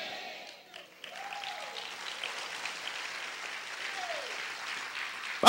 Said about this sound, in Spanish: Vamos a aplaudir fuerte a nuestro Dios